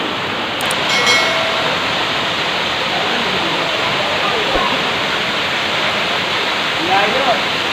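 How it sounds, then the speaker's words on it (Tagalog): Kilangin Falls, a waterfall in Laguna, roars as a steady, loud broadband wash of falling water that stays even from start to finish, with a few faint higher sounds above it near the beginning. "Ito po yung pinaka main falls."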